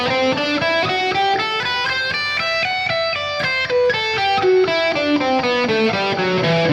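Distorted electric guitar runs through the C Lydian mode at three notes per string, a fast, steady stream of legato notes rising and falling, loud and continuous with no voice.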